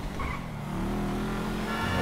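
A supercar engine in GTA 5 roars and revs close by, with a rising drone and a hint of tire squeal across a short continuous burst.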